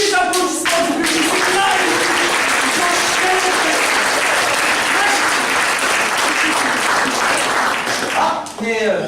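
A live audience breaks into loud, sustained applause that fills the room for several seconds, with voices audible briefly at the start and again as the clapping fades near the end.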